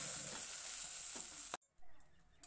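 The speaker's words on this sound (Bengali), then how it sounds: "চিংড়ি মাছ আমি হালকা করে ভেজে নামিয়ে নেব।" Prawns sizzle lightly in oil in a pan, a steady close hiss that cuts off abruptly, then returns more quietly with faint stirring.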